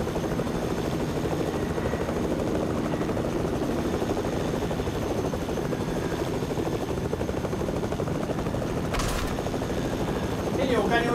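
A helicopter's rotor in the video game Fortnite thrums steadily throughout, a constant droning chop with a brief sharp burst near the end.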